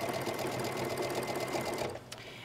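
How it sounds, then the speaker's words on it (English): A sewing machine stitches a seam on doll clothes, a fast steady whirring run close and loud for about two seconds before stopping abruptly, followed by a brief click. "And then I can just stitch the seam."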